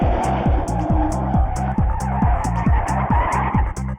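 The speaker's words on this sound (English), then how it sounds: "the noise, the screeching brakes" A joyriders' car skids through the streets of Belfast, its tyres squealing and brakes screeching in a loud, rapid, rhythmic series of repeated shrieks over a continuous engine roar.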